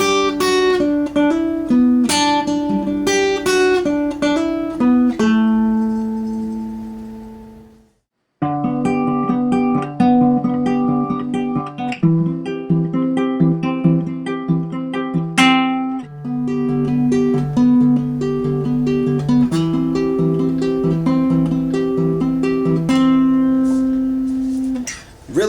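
Acoustic guitar fingerpicks part of a song, thumb-plucked bass notes under a steady ringing melodic pattern, close and alone, with a short pause near the eighth second before the playing resumes.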